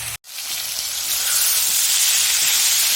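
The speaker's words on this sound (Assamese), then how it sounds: "এনেকৈ ঢাকি নৰখাকৈ মই মাংসখিনি ভাজি ল'ম" Local chicken meat fries uncovered in a pan, giving a loud, continuous sizzling hiss that swells after a brief cut and stays strong and close.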